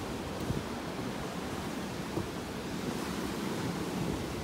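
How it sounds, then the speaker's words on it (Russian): Ocean waves and surf at a Miami beach, a steady broadband wash of breaking water, moderately distant and fairly quiet, with some wind noise on the microphone and no talk. "А, вот и океанчик сейчас."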